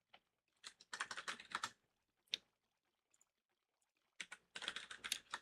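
Computer keyboard keystrokes come in quick bursts of clicking, with a few isolated taps in a quiet pause between the flurries, close and crisp with no talk.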